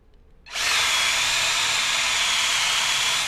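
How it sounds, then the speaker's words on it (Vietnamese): A power drill bores through material with a Starem 35 mm hole saw, the kind used to cut hinge holes. It starts abruptly after a short quiet lead-in, then whines loudly and steadily with a bright, hissing cutting tone until the end. "Đây mình sẽ khoan cho anh em mũi khoan của hãng Starem, cũng là mũi khoét lỗ 35 ly."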